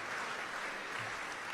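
Audience applause at the 2025 Buffalo mayoral debate, a brief, even burst of clapping from a crowd, steady and unbroken.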